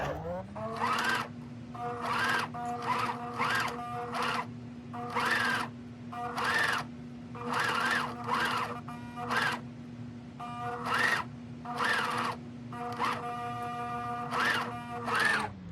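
A coverstitch sewing machine with a binder attachment runs in repeated short bursts of rapid mechanical whirring and stitching, separated by brief pauses, over a steady low hum.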